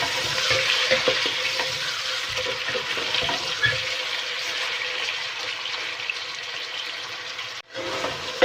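Chicken with ginger and garlic sizzles continuously in a hot pan with occasional scraping stirs, fairly close, no speech, cutting off briefly near the end.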